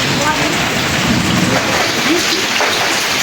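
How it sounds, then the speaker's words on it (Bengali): Heavy rain pours steadily, a dense continuous hiss of drops close by with no breaks. "বাবা বৃষ্টি বাড়তেছে"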